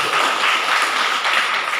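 A church congregation claps loudly during a Sunday service, a dense, steady roar of many hands sustained throughout without a break.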